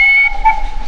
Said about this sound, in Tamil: ஊட்டி டாய் ட்ரெயின்.